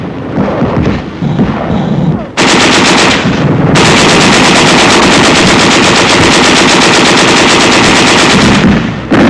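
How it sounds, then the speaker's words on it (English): Sustained machine gun fire in 1945 wartime combat, rapid bursts running almost continuously, loud and close, with a brief lull near the start before the firing resumes, dense and heavy, and no speech. "There is some machine gun fire and occasional shells"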